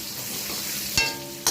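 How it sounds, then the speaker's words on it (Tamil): Onions sauté with ginger and garlic in a pan for kudhiraivali millet biryani, giving a close, steady sizzle with two quick scraping stirs of a spoon. "வெங்காயம் வதங்கட்டும்."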